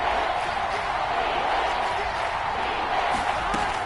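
Seahawks stadium crowd at a football game, a dense, steady roar of distant noise holding evenly throughout with no break.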